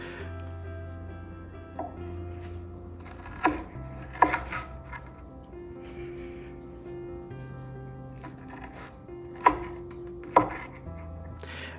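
Knife slicing through a crispy, well-browned pan pizza, a few sharp crunching cuts at intervals over quiet background music.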